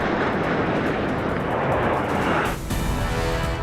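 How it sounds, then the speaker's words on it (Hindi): Two Dhruv and two Rudra military helicopters flying in Rudra formation over Rajpath, New Delhi, make a loud, steady rotor and engine roar that fills the whole stretch without a break. "राजपथ के ऊपर आसमान पर रुद्र फॉर्मेशन में 2 ध्रुव और 2 रुद्र हेलीकॉप्टर शामिल"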